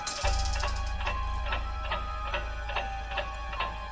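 A steady, even ticking from an unseen source in a bedroom in a TV episode, about two ticks per second, clear and close over a low rumbling background drone.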